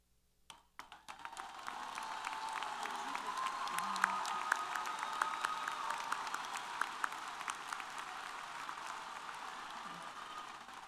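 A university commencement audience applauds the newest graduates, clapping swelling in after a brief quiet start into sustained, even applause across a large hall, with a few louder individual claps standing out.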